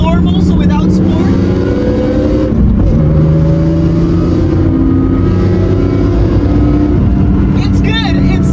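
BMW E46 M3 engine pulling hard in normal mode, not sport, a loud close droning tone that climbs in pitch through the rev range, with brief talk over it at the start and end.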